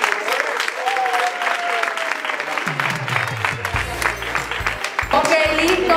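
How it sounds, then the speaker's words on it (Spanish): Audience applause at an autism congress, dense continuous clapping throughout, with background voices and a tonal sound mixed in. "Un aplauso para él"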